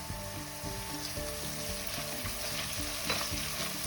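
Oil sizzles and crackles in a pot as tomato is stirred in, a steady close frying hiss with scraping and clinking of the spoon against the pot, no talking.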